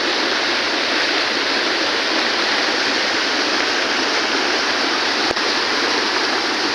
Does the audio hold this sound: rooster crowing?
no